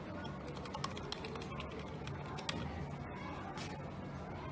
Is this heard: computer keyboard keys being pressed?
yes